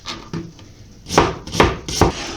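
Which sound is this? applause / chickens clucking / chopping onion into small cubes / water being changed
chopping onion into small cubes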